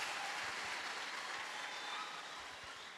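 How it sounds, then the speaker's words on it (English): A church congregation claps together in a steady, dense wash of applause, heard faint and distant throughout. "Shall we clap for Jesus?"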